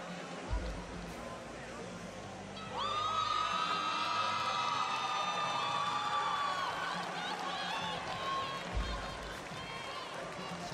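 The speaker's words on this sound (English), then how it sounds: "Certainly a lot of squawking from women in the crowd." High-pitched squawks and shrieks from women in the arena crowd at a 2012 London Paralympic wheelchair rugby match, a sustained shrill cry rising over steady crowd murmur, with thuds at start and end.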